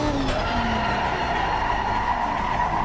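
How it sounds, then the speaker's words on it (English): A car brakes hard and skids in the ACC racing sim, a loud, sustained tire squeal with a falling tone over steady engine and road noise, heard alone. "And then slam on the brakes."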